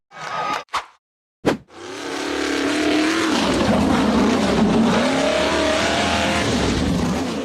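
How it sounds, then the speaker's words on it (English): An off-road buggy with a black steel frame powers up a steep rock face: a few short throttle blips, a brief pause, then a loud, sustained engine roar that climbs and wavers under heavy load and stays close throughout. "The black steel frame buggy accelerated up a steep rock face."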